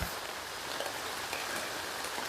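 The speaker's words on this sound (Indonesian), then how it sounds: "Hujan ini" Steady rain falls throughout, a dense even hiss of drops on surfaces, continuous and moderately close with no voices.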